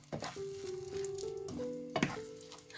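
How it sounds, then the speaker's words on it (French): Moroccan pastilla filling sizzles and crackles steadily in a hot pan as it is stirred to dry out, with soft scraping and a few clatters of the utensil against the pan. "on mélange jusqu'à que notre farce s'assèche"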